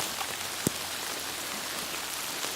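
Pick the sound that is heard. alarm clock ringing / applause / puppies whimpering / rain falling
rain falling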